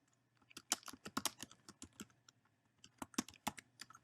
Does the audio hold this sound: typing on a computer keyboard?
yes